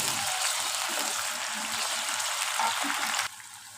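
Chopped onions and tomatoes sauté in a pan with a steady close hiss of frying that drops away abruptly near the end, and no one speaks.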